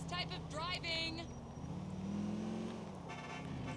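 A car engine in Grand Theft Auto IV revs and shifts as the vehicle is driven, its droning pitch rising and falling close by, with voices talking over it.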